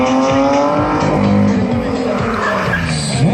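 A monster truck engine roars loud and steady at an outdoor show, its pitch sliding as it revs and tires squeal, heavy and close throughout, with a voice faintly underneath.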